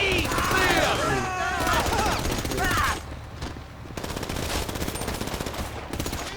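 Rapid automatic gunfire from a firefight in Grand Theft Auto Online, loud and close with dense repeated bursts, a brief lull around the middle, and a voice talking over the first few seconds.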